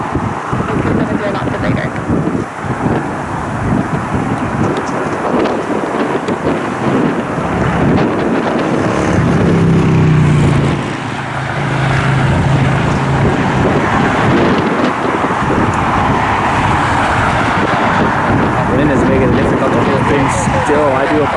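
Wind buffets a camera microphone at an airport during afternoon plane spotting in Cleveland, a loud, continuous rumbling roar with gusts swelling and easing and a faint aircraft engine tone beneath it.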